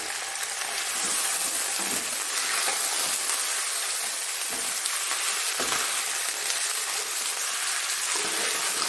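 Crushed garlic and ginger sizzle in a hot pan for a Saudi-style dish, a steady close frying hiss that runs throughout with faint stirring scrapes and no talking.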